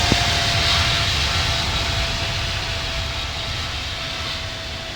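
A jet airliner landing at Sydney Airport in the flight simulator game Infinite Flight gives a steady, broadband engine roar with a faint constant whine. It holds even and loud throughout, easing slightly toward the end, with no talk.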